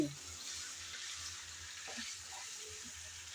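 Chicken with winter vegetables sautéed and stirred in a pan, a steady faint sizzle with soft, occasional scraping, quiet and continuous throughout.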